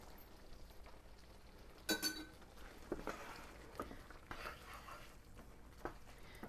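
A metal spoon clinking against a pot of chicken scallopini sauce in a quiet home kitchen: a few faint, scattered taps and scrapes, one sharper clink near the start, with soft background noise.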